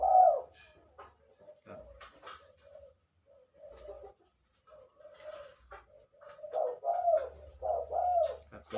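Repeated soft dove coos, low and hooting, come in short phrases with pauses between, fairly close and clear over a quiet background.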